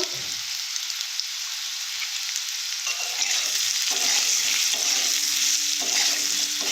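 Banana fritter curry with chilli powder and turmeric being sautéed in a pan, a continuous bright sizzle with stirring scrapes and spatter that grows a little fuller partway through.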